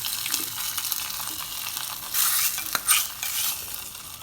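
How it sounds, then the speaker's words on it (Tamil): Kodo millet pongal, seasoned with crushed pepper and cumin, is stirred in a pot: soft, close scraping and mixing with a bubbling, sizzling background and a couple of louder strokes near the end. "பொங்கலை ஒரு கிளறி விட்டிங்கனாக்கா நம்ம வரகரிசி பொங்கல் தயார்"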